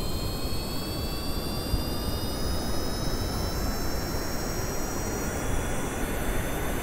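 Jet engines of an aircraft spooling up for takeoff in the game Kerbal Space Program, a steady roaring whine with rising tonal whistles, moderately loud and continuous with no voices.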